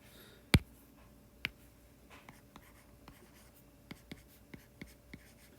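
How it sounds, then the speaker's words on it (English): Marker or chalk strokes on a classroom board writing negative signs, a sharp tap followed by a series of light, quiet scratches and ticks spaced about half a second apart. "I'm going to go ahead and write these negative signs."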